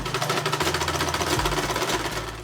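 Sewing machine running in a tailoring shop, a close, rapid rhythmic clatter of the needle with a low motor hum underneath, steady throughout with no talk.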